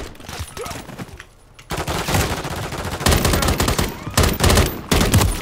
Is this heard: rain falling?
no